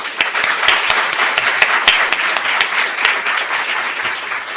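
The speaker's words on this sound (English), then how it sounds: "So please give him a big round of applause" Loud, sustained applause from a large audience at a diplomatic academy event in Seoul, dense clapping with sharp individual claps standing out, no speech over it.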